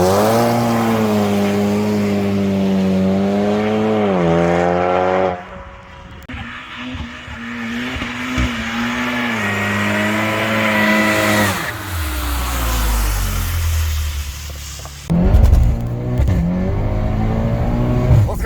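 A Skoda Superb on slick tyres accelerates hard, its engine revving up through gears with rising whine, brief drops between shifts, and tyre noise, loud and close throughout.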